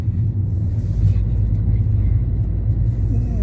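Inside a moving car with a failing left wheel bearing, a continuous deep rumbling drone fills the cabin, steady and fairly loud, with no pauses across the stretch.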